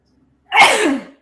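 A single loud, close sneeze, a sharp burst of breath lasting about half a second, with a brief breathy sound following it in an otherwise quiet room.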